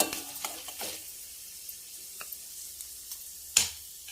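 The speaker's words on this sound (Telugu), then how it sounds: "ఆవాలు అవన్నీ వేగితే బాగుంటుంది, చిట్టుపడలాడుతూ" Quiet sizzling oil with mustard seeds spluttering, sparse sharp pops and crackles at irregular intervals, one louder snap near the end.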